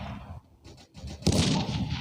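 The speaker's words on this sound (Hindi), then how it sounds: "बम फेंका हुआ था उसने।" A thrown bomb explodes in a World War video game, one heavy, loud blast with a rumbling tail, preceded by a few softer in-game sounds.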